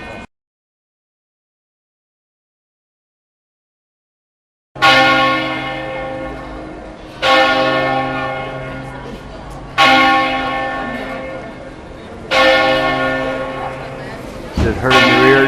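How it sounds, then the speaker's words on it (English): Church bells in Treviso, Italy toll at noon, loud and close, four slow ringing strikes after a silent start, each swelling and decaying into the next with rich ringing overtones. "you can get a shot of the bells tolling"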